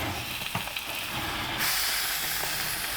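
Constant loud hissing and crackling of salmon sizzling on a wet oak plank in a wood-fired oven, steady throughout, with a brief bump partway.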